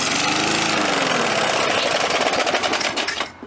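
Gas lawnmower engine with a new spark plug roars loudly right after starting, runs roughly for a few seconds, then sputters and fades out as it dies.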